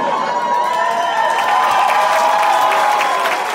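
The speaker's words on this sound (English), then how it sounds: "Already getting a round of applause." A live audience breaks into loud, sustained applause mixed with cheering and whoops, a dense crowd roar that holds steady throughout without letting up.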